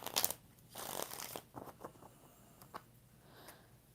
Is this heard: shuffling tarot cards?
yes